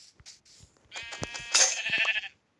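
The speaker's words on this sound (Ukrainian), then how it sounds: "а ось його вівці" Several Minecraft sheep bleat in short wavering cries, one after another, close by and fairly loud, with light clicks and taps in between.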